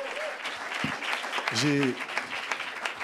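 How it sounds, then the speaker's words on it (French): An audience in a church applauding during a French talk show, steady clapping with cheers and someone speaking over it. "tu peux acclamer, hein?"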